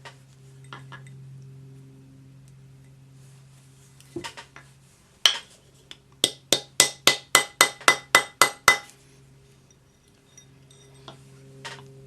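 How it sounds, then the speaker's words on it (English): A metal ring being hammered to stretch it rings out in a quick run of about ten sharp, evenly spaced clinks, preceded by a few scattered taps, close and without talk. "because it will expand as you hammer it"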